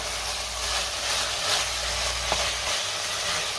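Soya pulao masala with coriander being mixed in a pressure cooker, a dense continuous sizzle with soft stirring, steady and close.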